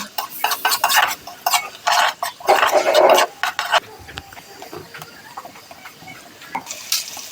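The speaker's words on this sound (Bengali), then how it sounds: "পেঁয়াজটাকে আমি হালকা বাদামি করে ভেজে নিব।" Chopped onions frying in oil with whole spices, bay leaf, cloves and cardamom over a clay stove, with repeated scraping stir strokes and a steady sizzle, loud and close, including one longer burst of frying noise midway.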